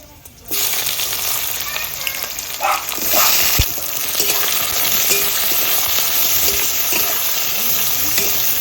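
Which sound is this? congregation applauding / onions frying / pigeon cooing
onions frying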